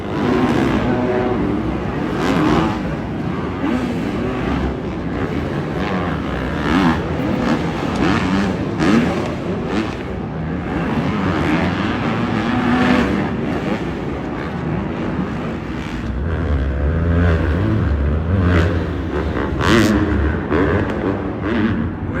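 Triumph motorcycles race on a muddy dirt track, engines droning loudly and steadily throughout with rising and falling revs as bikes pass, a deeper rumble swelling near the end.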